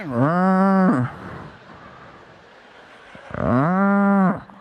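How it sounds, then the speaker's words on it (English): A cow crossing a street moos twice, long and loud from close by, each low bellow rising and holding before dropping off, with a quieter stretch of road noise between the calls. "There's a cow crossing the street while we're driving."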